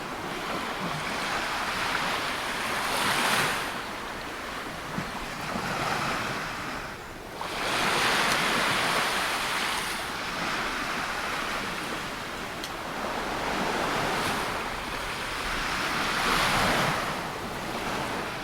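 Ocean waves and surf at Bondi Beach in Sydney, broad washes of breaking water rising and falling in slow swells every few seconds, loud and close, with wind buffeting the microphone.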